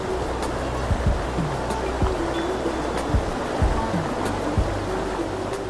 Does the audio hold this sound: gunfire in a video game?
no